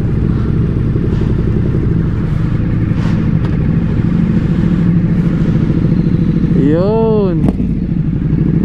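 A Ducati motorcycle engine runs with a steady mid-pitched rumble throughout, close and loud, with a brief rising rev near the end while a person speaks over it.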